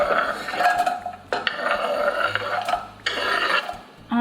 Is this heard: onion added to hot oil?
yes